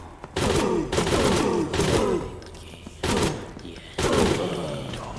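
Bursts of gunfire in a horror video game, clustered volleys of several rapid shots each, about four bursts separated by short pauses, loud and close with a voice faintly in the background.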